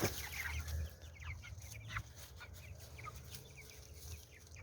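Several chickens cluck and chatter nearby in short, irregular bursts, with soft rustling in the background.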